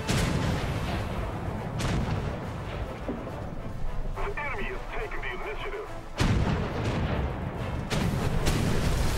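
Ship cannons boom again and again in a video game naval battle between pirate and navy ships, with heavy repeated blasts and rumbling under a lively game soundscape while someone shouts excitedly over it.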